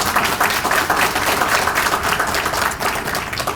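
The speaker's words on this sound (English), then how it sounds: "Please give a round of applause one more time" A crowd at a police swearing-in and promotions ceremony claps loudly and continuously, dense close applause holding steady throughout with no distinct voices.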